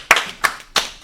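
Four slow, separate hand claps ring out close and crisp, evenly spaced about a third of a second apart during a French live stream, with nothing else heard.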